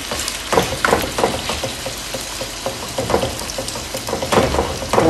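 Chicken fries in a pan with a steady close sizzle and crackle, broken by scattered louder pops and bursts of spatter.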